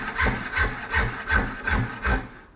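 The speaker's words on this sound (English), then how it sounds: "once you start to get into the cut, I don't know if you can hear it, but it feels like the blade is just digging and jumping around" A custom BearKat hand saw cutting through 3/4 inch hickory, with about six rhythmic push strokes of rasping teeth. Each stroke sounds slightly rough and grabby, close up with no voices.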